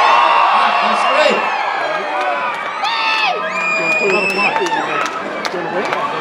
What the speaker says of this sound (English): All right, let's scream.